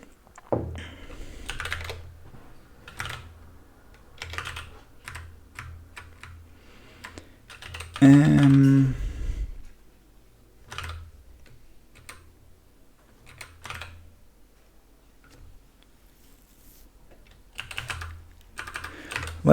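Typing on a Moonlander keyboard, fast bursts of clicky keystrokes close by with short pauses, plus a brief louder thump and tonal sound around the middle.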